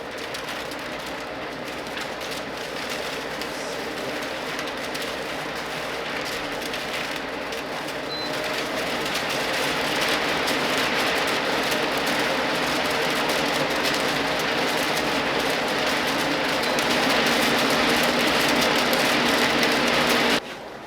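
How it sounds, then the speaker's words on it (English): A Jet AFS-1000B air filtration unit runs with a steady broadband fan whoosh that grows slightly louder in steps as the speed settings rise, holding constant before a sudden drop at the very end. "I'm going to show you how this air filtration unit works on its different settings"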